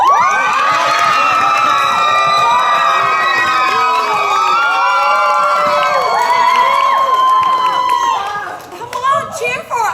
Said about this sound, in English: Come on, cheer for us.